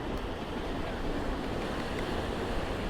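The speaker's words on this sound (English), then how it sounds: "And the sounds of the ocean just crashing." Ocean surf crashes steadily at sunrise in a continuous broadband wash of water, heavy and close, with wind buffeting the microphone throughout and no voices.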